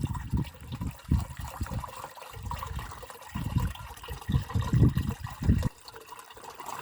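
Water pours and splashes into a sprayer tank as a dissolved treatment for apricot trees mixes in, a close, uneven gushing with bursts and pauses and no talk.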